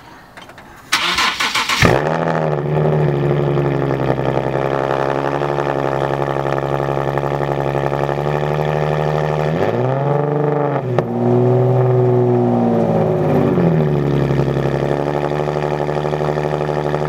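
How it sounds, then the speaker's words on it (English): A Nissan 370Z cold-starts with a sharp crank and catch, then settles into a loud, steady idle punctuated by two rising revs that fall back, close up and alone. "Alright, cold start for you guys."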